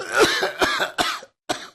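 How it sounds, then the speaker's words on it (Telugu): A close burst of several harsh coughs in quick succession, then a short pause and one final cough. "తెగ దగ్గుతున్నావు"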